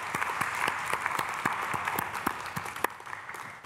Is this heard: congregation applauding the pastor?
yes